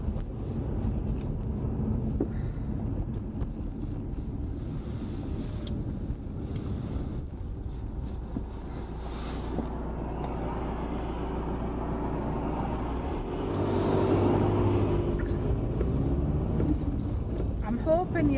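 A car drives along Lake District roads near St. John's in the Vale, a steady engine and road hum with some wind buffeting that swells later, under nearly continuous talking.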